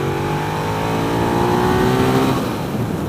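A 2015 Ducati Diavel Carbon Edition motorcycle accelerating hard, its engine note rising loud and continuous as it pulls through the revs, with steady wind and road roar around it.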